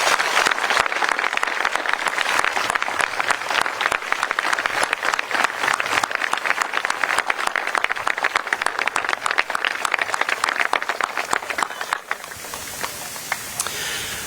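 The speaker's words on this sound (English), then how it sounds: "Now let's all please give them a huge round of applause." Sustained applause from a school Memorial Day ceremony audience honoring military veterans and service members, steady dense clapping for about twelve seconds before fading into room tone.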